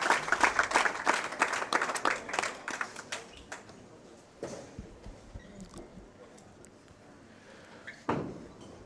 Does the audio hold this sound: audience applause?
yes